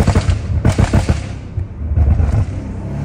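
Loud, sharp crackling pops burst in rapid clusters over a roaring engine, like gunshots going off close by, from the exhaust of a catless BMW M5 Competition in third gear.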